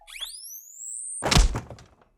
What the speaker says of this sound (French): Le bruit que tu viens d'entendre, c'est un défibrillateur.